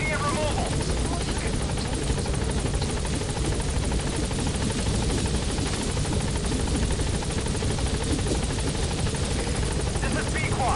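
A helicopter arrives at a landing zone in the Metal Gear Solid video game, its loud, constant rotor thrum filling the whole stretch without a break, while a radio voice talks over it.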